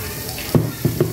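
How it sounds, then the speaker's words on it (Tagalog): Cabbage and carrot stir-fried in a pan, a steady close sizzle of frying with a few sharp scrapes and clinks of the utensil stirring the vegetables. "Ayan, mix natin ang ating cabbage."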